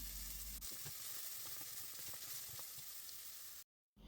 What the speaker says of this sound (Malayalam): അതിലേക്ക് ഞാനിപ്പോൾ ഇടുന്നത് ഫസ്റ്റ് ഇടുന്നത് ഉള്ളിയാണ്